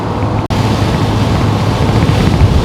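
Heavy, loud wind roar buffets the cabin of a moving 1992 C4 Corvette with a hatch vent fitted, a constant rushing noise over low road and engine rumble with one brief dropout.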